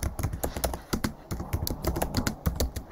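Rapid, close typing on a computer keyboard, a steady clatter of individual keystrokes with short irregular pauses, no voices.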